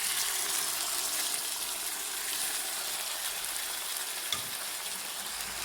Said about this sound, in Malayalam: അത് ഒരു 1-2 മിനിറ്റ് തീയിൽ കിടന്ന് ഒന്ന് മൂത്തതിന് ശേഷം